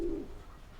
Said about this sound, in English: let me get all these birds out of the way